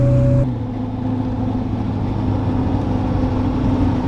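A 900 whp 1998 Pontiac Firebird Trans Am V8 holds a loud, steady idle-like rumble with a brief higher tone at the start, close up and alone without talk.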